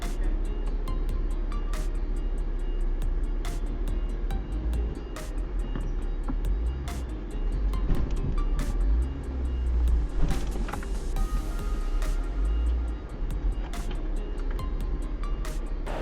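A Jeep drives slowly off-road at an adventure park, its engine a low steady rumble close by, with intermittent knocks and clunks from the rough terrain and faint background voices.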